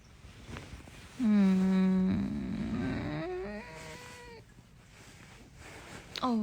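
A cat gives a long, wavering meow up close, followed by a shorter one, with brief voice sounds around it.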